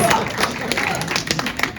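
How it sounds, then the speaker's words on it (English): An audience at a presentation about the Alamo gives a round of applause, a dense, continuous patter of many hands clapping at close range with a few louder individual claps. "yes, round of applause"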